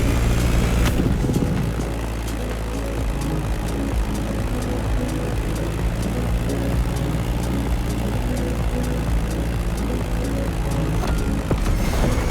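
A Beechcraft Staggerwing propeller biplane flying in The Crew Motorfest game: a loud, steady engine drone with a rhythmic propeller beat runs throughout, alone and close.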